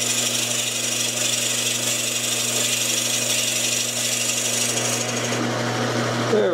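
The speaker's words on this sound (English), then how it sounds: "put your lathe on slow speed too for the Forester bit so you don't overheat" A Forstner bit drilling into a workpiece on a lathe at slow speed gives a steady, close motor whine with constant tonal hum and a slight rise at the very end, no talking.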